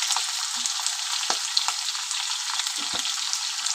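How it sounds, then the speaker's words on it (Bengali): Potatoes frying in a pan for a Bengali drumstick chorchori, a steady close sizzle broken by a few soft knocks as the pieces are stirred. "চলো আলুটা একটু ভেজে নিই"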